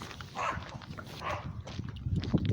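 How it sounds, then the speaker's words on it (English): Dog barking outdoors near a bus stop at an intersection, two distinct barks at a moderate distance, heard over street background noise with some scuffing sounds. "That dog needs to shut up."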